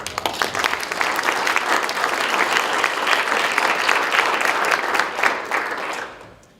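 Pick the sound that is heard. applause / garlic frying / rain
applause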